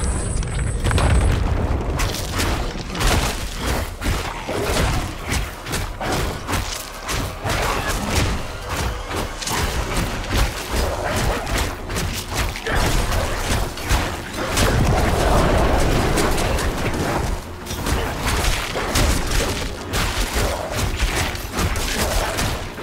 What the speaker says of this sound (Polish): Wtedy wybuchają tam, gdzie te są monolity.